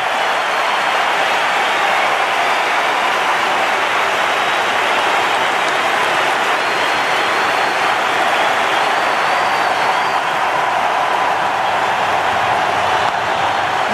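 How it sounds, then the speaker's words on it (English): A packed Sydney Cricket Ground crowd roars and applauds in a sustained, dense wash as spectators rise for Glenn McGrath, a loud, continuous ovation with no break throughout. "See the crowd all standing, all rising here at the SCG."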